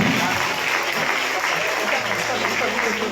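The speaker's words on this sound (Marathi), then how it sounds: "टाळ्या वाजवूया." A church congregation at a New Year service claps together in a dense, continuous wash of applause that lasts a few seconds.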